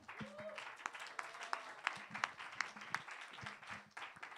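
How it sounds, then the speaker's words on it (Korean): Church audience at a young adults' Wednesday prayer service claps and applauds to welcome a pastor, steady clapping throughout with voices faintly mixed in. "큰 박수와 함께 모시겠습니다"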